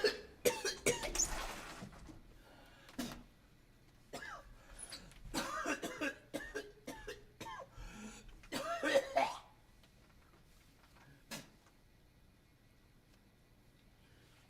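A woman coughs hard after taking a big cannabis dab, sounding as a burst of harsh, repeated coughs and throat clearing, then spaced hacks that thin out and fade into near silence.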